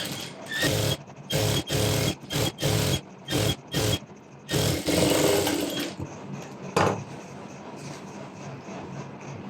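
A sewing machine stitching a circular maxi dress runs in a series of short loud bursts, stopping and starting in quick rhythm, then one longer run before fading to quieter handling noise, close by with no speech.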